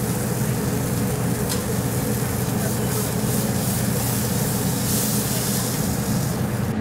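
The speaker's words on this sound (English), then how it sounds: "We get a little bacon heated up here." Bacon heating up on a hot surface for a burger gives a dense, steady sizzling hiss, loud and close, unbroken for the whole stretch.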